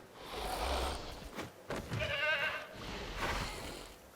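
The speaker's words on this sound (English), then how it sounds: "I can hear a goat referee being mauled to death." Goat bleating in Jurassic World Evolution 2, several wavering bleats in close succession, fairly loud and alone.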